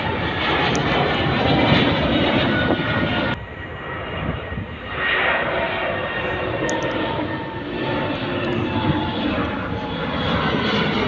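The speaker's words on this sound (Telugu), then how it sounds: "ఇప్పుడే ఫ్లైట్ టేక్ ఆఫ్ అవుతాం చూడు" A fixed-wing airplane taking off at Kuwait airport, a loud, sustained jet engine roar filling the whole stretch, with a brief drop in level partway through before the steady rumble continues.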